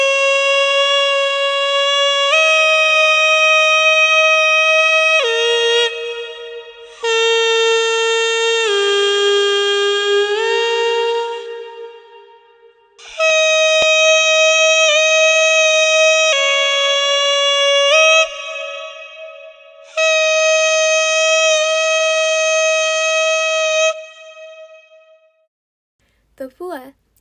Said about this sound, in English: The hichiriki is a double reed wind instrument and closely resembles that of an oboe. In fact, it sounds like an oboe, but even more shrill and like a duck.